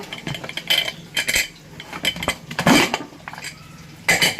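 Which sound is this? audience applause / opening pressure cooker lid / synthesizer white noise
opening pressure cooker lid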